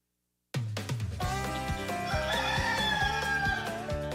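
A rooster crows loudly as a sound effect in a radio station jingle for WHBN The Rooster, Harrodsburg, layered over a punchy musical bed with steady beats after a brief silent start.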